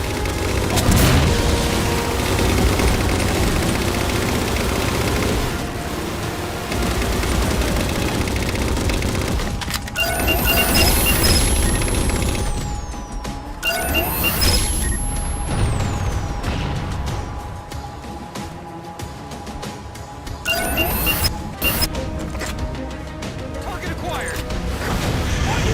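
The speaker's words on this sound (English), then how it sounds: "Target those phantoms for the railgun to shoot down." Halo 4 railgun blasts aimed at Covenant Phantom dropships, booming heavy shots and crashing impacts over a constant din of battle, with whining charge-up tones rising between the loud bursts.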